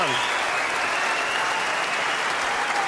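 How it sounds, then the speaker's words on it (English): A snooker crowd at Alexandra Palace bursting into loud, sustained applause and cheering at a Masters final, a dense wall of clapping that stays strong throughout. "this crowd at the Alexandra Palace erupting"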